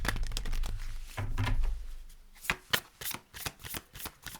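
Oracle cards are shuffled by hand: a muffled rustle and thumps at first, then a run of sharp, crisp riffling snaps, close and fairly quiet, with no one talking.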